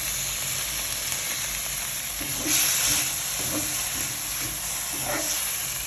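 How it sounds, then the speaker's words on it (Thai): Vegetables sizzling as they stir-fry in a pan for a Thai rad na dish with Shanghai noodles, a steady hiss with a louder burst of steam midway and faint scraping stirs, no talking. "นำผักลงผัดนะคะก็ใส่น้ำอันนี้ลงไป"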